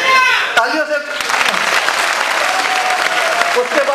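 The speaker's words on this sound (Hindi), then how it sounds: "तालियों से।" A crowd at a poetry recital (mushaira) breaks into loud, sustained applause, dense clapping that fills the space, with a voice heard briefly at the start.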